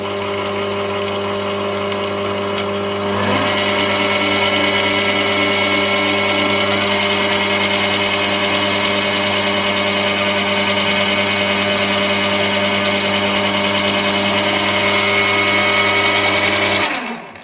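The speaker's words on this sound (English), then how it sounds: "Turn on the lathe and let's have some speed." Mini lathe spinning up and running at speed, a loud, steady motor whine with a constant hum that holds evenly for many seconds before shutting off at the end.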